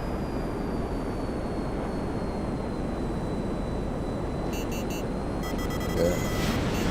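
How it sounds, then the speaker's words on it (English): A plane stalling in GTA Online during an aerial combat session: a steady, droning engine roar holds throughout, with a thin whine sliding gradually down in pitch and faint beeping near the end. "Here's a plane stalling,"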